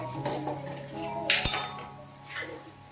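Metal utensil clinking against a bowl while coconut, banana and egg are stirred together for a snack, soft scattered taps with one sharper clink near the middle, fairly quiet.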